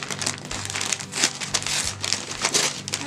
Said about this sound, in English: I almost don't want to rip this.